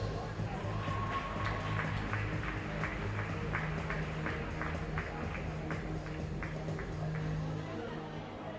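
An indoor crowd claps in a steady rhythm for medal winners at a para-swimming meet, somewhat distant and echoing, over a constant hall hum with faint chatter.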